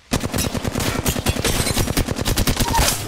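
Rapid automatic gunfire rattles nonstop in Apex Legends, dense and loud, with close, fast shots blending into a continuous burst.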